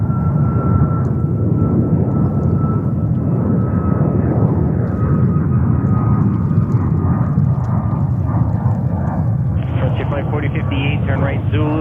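A China Southern cargo aircraft at JFK airport gives a loud, sustained engine roar with a steady whine, and a brief radio-like burst comes in near the end.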